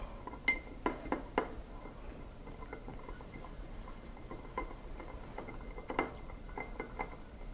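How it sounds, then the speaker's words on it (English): Ice clinking against a glass as a whiskey cocktail is stirred, a run of light, close chinks and clicks, denser at the start and again near the end, with no talking. "We're just going to really stir until this is chilled and diluted."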